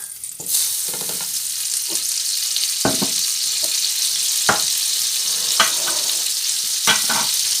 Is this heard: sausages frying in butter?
yes